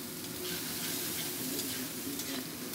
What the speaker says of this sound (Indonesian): Ya, ditumis-tumis,